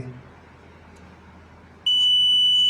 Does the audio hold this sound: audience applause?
no